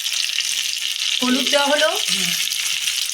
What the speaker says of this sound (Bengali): আমরা এতটা তেল খাবো না বলে সেদ্ধ আলুগুলো এখনই মা সর্ষের তেলে ভালো করে ভেজে নিচ্ছে।